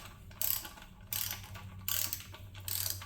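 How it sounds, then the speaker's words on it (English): A torque wrench set to 30 ratchets in four short bursts while tightening bolts on a high-output Quad 4 engine build, each rapid clicking run close and crisp with brief pauses between. "we already have our torque wrench set for 30, so that's what we're going to go ahead and tighten these up"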